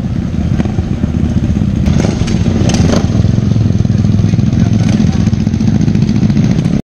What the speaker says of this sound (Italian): Comunque bel arrivo di tante moto,